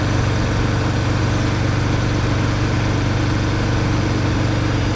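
A 2018 Harley-Davidson Breakout motorcycle engine running during a ride, a dense steady low rumble with constant wind and road noise layered over it, loud and unbroken throughout.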